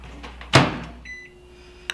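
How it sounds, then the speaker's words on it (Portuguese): A microwave oven used to warm dessert ingredients for an Oreo mousse, with a clunk of the door or start, then a steady hum and a short beep near the end, nearby and fairly quiet. "Então eu vou agora levar no micro-ondas."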